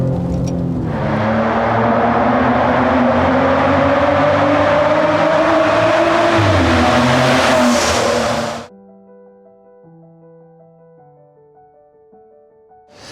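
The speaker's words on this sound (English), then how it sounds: "Put the car in the sports mode and it does sound like an Italian supercar," A Maserati Ghibli in sport mode revs loudly up close, its engine note rising and holding for about eight seconds before cutting off into near silence with faint tones.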